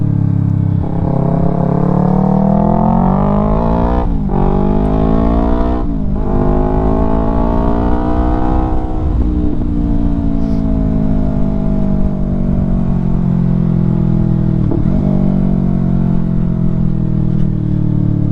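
A Yamaha R3 motorcycle with an Akrapovic full system exhaust revs loud and close, its engine note rising and falling through several throttle blips into a steady, throaty drone, with no talking.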